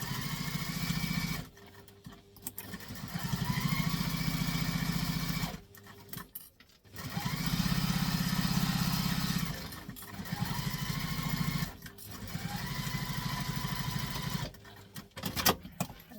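A sewing machine stitches a zippered seam in several long runs of rapid, steady mechanical whirring, broken by short pauses as the presser foot is lifted to ease past the zipper pull, close up and without talk.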